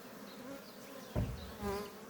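Honey bees buzz around an open beehive with frames of brood, a steady near hum with a couple of louder close passes as individual bees fly by.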